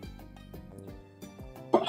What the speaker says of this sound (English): my coughing didn't get better